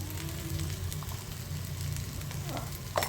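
Onion masala sizzles in hot oil in a pan for crab curry, a steady, close frying hiss with a few faint stirring scrapes and no talking.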